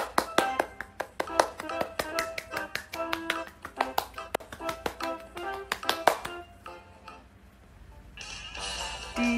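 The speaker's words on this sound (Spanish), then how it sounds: "Aplaudamos a todo el mundo." Children in a charter school Spanish class clap together, a clear, fairly close run of sharp hand claps in loose rhythm for several seconds before trailing off into quieter room noise.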